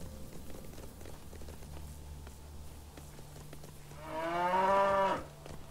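A cow in the ATOM RPG video game gives one long, clear moo near the end, rising over a quiet, steady ambient hum with faint scattered footstep-like clicks.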